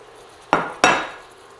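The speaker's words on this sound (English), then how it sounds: "And now, return the salmon to the skillet." Two sharp clanks of pan and utensil, about a third of a second apart, each ringing briefly as salmon goes back into the skillet, close and alone in a quiet kitchen.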